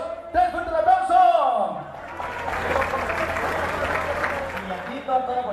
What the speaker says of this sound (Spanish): una, dos, tres, fuerte el aplauso